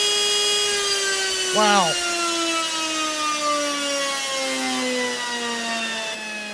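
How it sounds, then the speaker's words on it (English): Brushed RC motor spinning on a dyno, a loud, sustained whine with layered tones that slowly slide downward as it runs, plus a brief rising sweep early on. A voice exclaims once briefly. "And we're ready to run this motor."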